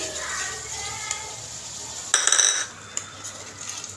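Spices cooking in a pan with lightly fried onion for an ilish fish curry, a low continuous sizzle under repeated stirring, with a brief louder clatter of utensil against metal near the middle.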